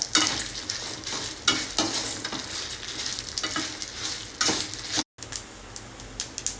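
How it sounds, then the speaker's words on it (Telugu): Chana dal, a few fenugreek seeds and about fifteen to twenty dried red chilies fry in a pan with a steady close sizzle, broken by repeated spatula scrapes and stirring clatter and one brief dropout; no one speaks. "ఫ్రై చేసుకుందాం."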